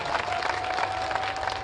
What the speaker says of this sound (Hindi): गर्व से एक बार बिहार के लोगों के लिए ताली बजानी चाहिए